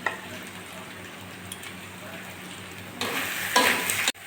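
Potatoes frying with spices in a pan for katla fish dopiyaji, a steady close sizzle with stirring, the spatula scrape growing louder near the end before stopping abruptly.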